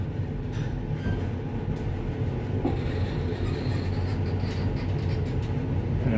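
An original Schindler S100L-MS traction elevator machine runs with a steady, even mechanical hum and rumble throughout, continuous and close, with no talking.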